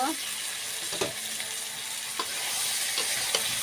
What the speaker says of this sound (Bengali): সুন্দর করে নাড়ে ভালো করে কলা আলু কষাই নেব।